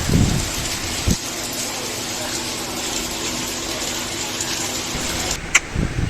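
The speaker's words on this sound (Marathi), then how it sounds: "पण पाऊस लागलेला आहे" Steady rain hisses continuously across the whole stretch, with a couple of brief knocks and thumps breaking through near the start and end.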